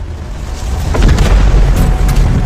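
An asteroid impact explosion and its shock wave, a deep, loud rumbling boom that swells and holds as a continuous roar, with no voices.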